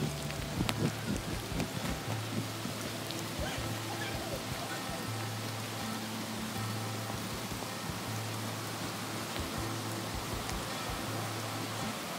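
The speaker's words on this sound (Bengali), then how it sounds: "এখন বেশ জোরে বৃষ্টি হচ্ছে।" Heavy rain falls near a waterfall in a dark forest, a steady broad hiss of drops on the ground and leaves, with some people talking over it at times.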